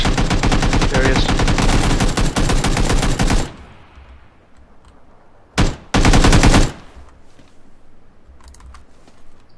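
Rapid automatic gunfire in a video game: a long, loud, continuous burst, then a short pause, a single shot, and a second shorter burst, followed by quieter ambience.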